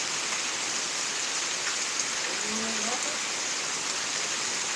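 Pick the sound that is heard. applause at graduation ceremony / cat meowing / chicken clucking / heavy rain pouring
heavy rain pouring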